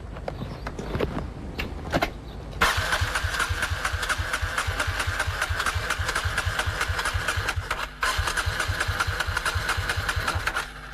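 A motorcycle fitted with a Joe cell water device cranks with a few rapid clicks and starter whirrs, then catches and settles into a loud, steady, close idle with a brief dip near the end.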